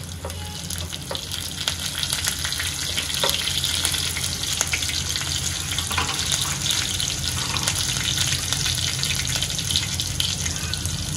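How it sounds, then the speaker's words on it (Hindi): Cumin and mustard seeds crackle and spit in hot oil as a tempering for boondi raita, a steady dense sizzle with scattered sharp pops running throughout, close and fairly loud with no voices. "आता जिरं आणि राई दोन्ही तडतडली आहे"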